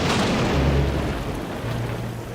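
Steady heavy rain pours down in an animated children's train series, a dense hiss with a low rumble underneath and no voices.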